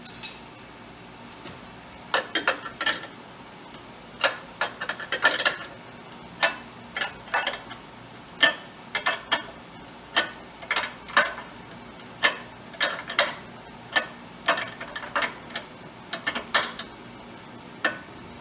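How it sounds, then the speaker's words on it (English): Wrench tightening a battery terminal bolt on a 2014 Prius V, a long run of sharp metallic ticks and clicks in irregular bursts, close and fairly quiet, with no talking. "I'm going to get my wrench and make sure that that's nice and tight"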